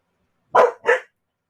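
A dog gives two sharp, close barks in quick succession, with silence before and after.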